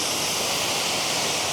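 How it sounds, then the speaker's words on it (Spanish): A Pyrenees mountain waterfall roars in autumn, a dense, steady broadband rush of falling water heard close and loud with no breaks. "La cascada pues va por aquí"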